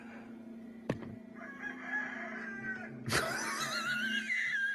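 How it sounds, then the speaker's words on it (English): A rooster crows loudly and clearly over chicken noises, with sharp bursts and a long trailing crow near the end, all against a steady low hum. "with them playing chicken noises"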